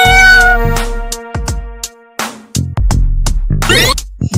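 A domestic cat meows several times in short, loud bursts, with distinct pauses between calls and a longer, whining cry near the end.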